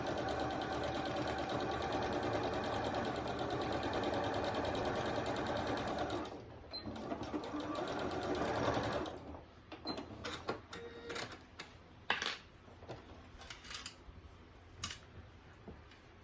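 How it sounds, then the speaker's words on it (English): Sewing machine stitching across a quilted photo ID pouch, a steady rapid mechanical whir for about six seconds, then a longer burst before it breaks into short stop-start runs and clicks. "you're going to sew that across the same way you did"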